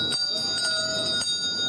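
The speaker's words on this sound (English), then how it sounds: "Bells are ringing this year again to support families in the community" A Salvation Army hand bell rings during the holiday season outside a grocery store, giving steady bright metallic tones with repeated strikes, fairly close and moderately loud, under faint background murmur.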